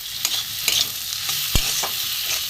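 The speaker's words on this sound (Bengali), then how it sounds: "লঙ্কাটা একটু হয়ে গেছে, একটু ভালো করে ভেজে নেব, কষিয়ে নেব" Chili and spices, with garam masala powder, fry in oil in a pan for a vegetarian papad curry, a bright sizzle broken by several sharp scraping stirs and one loud clank.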